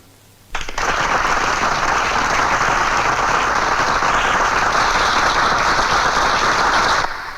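A crowd gathered at a public gathering where a statue stands bursts into loud, sustained applause, starting abruptly and holding steady for several seconds before cutting off, with no talking over it.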